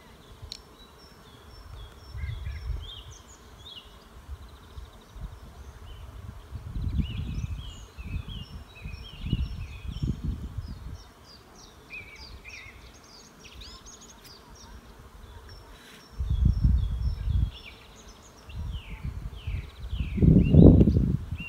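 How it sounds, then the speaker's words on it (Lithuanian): Honeybees buzz around a small apiary of four hives preparing to swarm, a steady continuous drone from many bees at moderate distance, with occasional rustling and handling noises close to the recorder. "Daug bičių iš tikrųjų."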